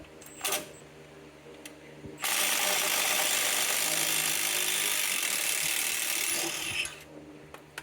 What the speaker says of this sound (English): I'm going to put an impact on the bottom